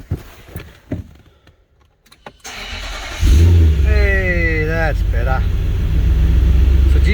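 A Y62 engine being started with a jump starter: after a few clicks and a quiet pause, the starter cranks briefly, then the engine catches and settles into a loud, steady idle while someone talks.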